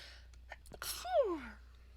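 A single sharp sneeze erupts close by after a few quick breaths, ending in a falling vocal tail.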